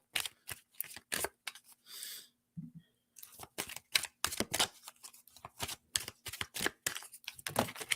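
Oracle cards being shuffled by hand, a rapid run of crisp papery riffles and snaps up close that stops briefly partway through, with no talking.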